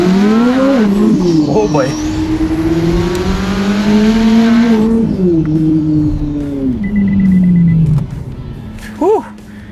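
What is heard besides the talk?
2026 Chevrolet Corvette C8 Z06 twin turbo accelerating hard, sliding sideways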